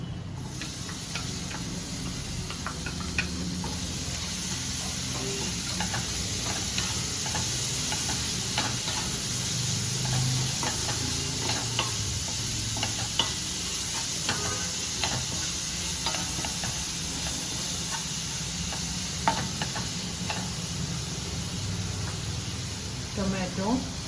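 Onion and turmeric sautéing in a pan for chole masala, a continuous close sizzle with light ticking scrapes of a spoon stirring, steady over the whole stretch.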